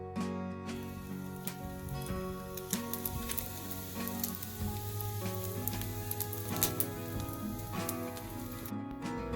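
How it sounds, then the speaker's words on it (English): Bacon cooking on a Blackstone griddle over medium-high heat, a continuous crackling sizzle with scattered pops beneath a faint background music bed. "Now out on our griddle, over a medium-high heat, we'll cook up our bacon until it's nice and crisp."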